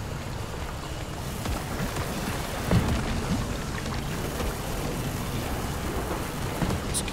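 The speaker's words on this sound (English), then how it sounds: "Oh, that storm caught up to us." A storm in Pacific Drive pours heavy rain in a constant wash of noise, with a thunder crack and low rumbles breaking through partway, loud and unbroken without any voices.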